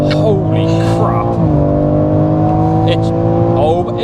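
G80 BMW M3 Competition xDrive accelerating hard from inside the cabin, a loud rising engine note that drops sharply at an upshift and climbs again, with voices exclaiming over it.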